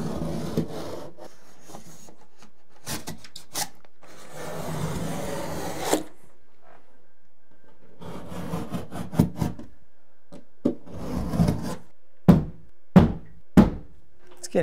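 Scraping, rasping cuts from a utility knife scoring cast iron soil pipe come in bursts, followed by several sharp knocks near the end.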